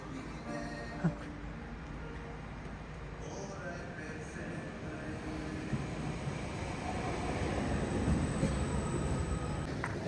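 A Gornergrat mountain cog railway train near the Matterhorn rumbles and clatters overhead, gradually growing louder as it passes, with faint voices in the background.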